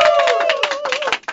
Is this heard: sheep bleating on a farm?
no